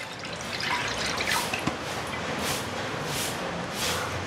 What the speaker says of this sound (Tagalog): So, una nating ilagay or ibuhos yung ating evaporated milk.